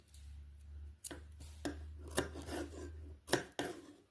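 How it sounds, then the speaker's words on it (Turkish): Scissors snip notches into the edge of sun-shaped pillow fabric: a handful of sharp, separate cuts at uneven intervals, close and fairly quiet over a low steady hum. "Sonra aralıklarla çıt atıyorum"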